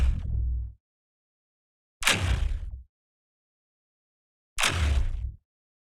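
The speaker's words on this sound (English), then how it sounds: "For the AK-47, a futuristic synthesized electrical impact." Synthesized electrical bullet impact sweetener designed for an AK-47 in a game: three separate sharp hits, each a bright crackling burst with a short fading tail, spaced by clean silence.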